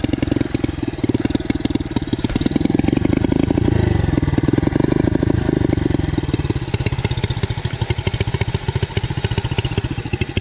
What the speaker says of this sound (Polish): Słyszę, że mi powietrze uchodzi.